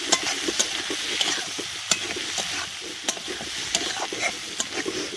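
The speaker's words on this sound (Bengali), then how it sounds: "আলুটা এমন ভাজা হয়ে গেছে" Potatoes with turmeric frying in a pan for kaju paneer, a close, steady sizzle with repeated scraping and clacking as they are stirred.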